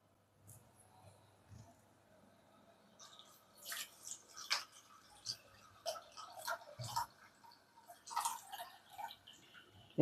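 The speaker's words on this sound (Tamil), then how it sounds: "இப்போ நம்ம இளநீ தண்ணியை நம்ம வடிகட்டி ஊற்றிக்கிடலாம்." Tender coconut water is poured through a strainer, giving faint, irregular drips, trickles and small splashes in a quiet kitchen.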